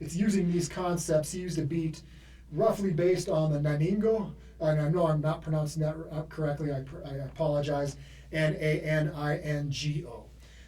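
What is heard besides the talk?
None of the usual background noises is heard.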